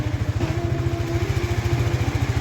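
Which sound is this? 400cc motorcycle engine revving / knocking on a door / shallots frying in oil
400cc motorcycle engine revving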